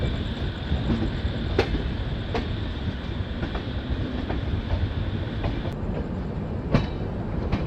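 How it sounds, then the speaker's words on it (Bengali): A long-distance express train from Delhi pulls into Malda Town station, giving a steady close rumble of rolling wheels and carriages with occasional sharp clicks and faint squeals. "দিল্লি থেকে ছেড়ে 1400 কিলোমিটারেরও বেশি ডিস্টেন্স কভার করে finally train Malda town station enter করছে।"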